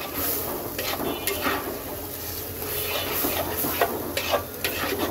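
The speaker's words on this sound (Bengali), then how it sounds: "শুধু মশলাটাকে কষাবো তেলের মধ্যে" Spices with coriander powder fry in hot oil in a pan for a Bengali fish roe bhuna, a steady close sizzle with occasional scraping stirs of a spatula and no talk.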